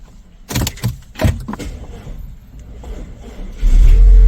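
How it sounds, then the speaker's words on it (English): A 2.0L car engine cranks in short bursts on an Ultimate Speed UMAP 12000 jump starter, then catches near the end and runs loudly at a steady idle. "So it can barely start this engine,"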